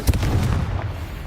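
A Confringo spell explosion in Hogwarts Legacy: one loud, close fiery blast with a sharp booming onset and a rumbling tail that fades over about a second, with no talk.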